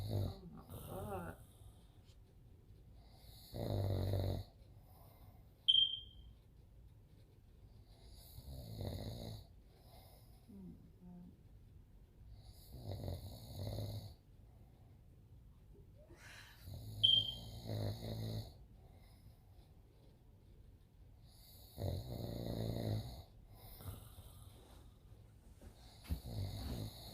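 A man snoring loudly in bed, deep rasping snores with wheezing roughly every four to five seconds, each burst close and heavy, separated by quiet breathing and a couple of brief high squeaks.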